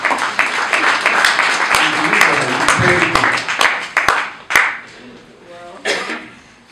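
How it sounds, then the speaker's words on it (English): Enthusiastic audience applause, dense clapping sustained for several seconds before thinning out into a few scattered claps. "can we all give a round of applause to this wonderful lady?"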